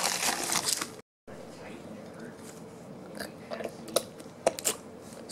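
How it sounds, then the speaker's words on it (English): Crunchy chewing and biting noises sound close to a microphone in a casual gaming chat, with irregular crisp crackles and a brief dropout, under light talk. "why does it sound like you're chewing stuff?"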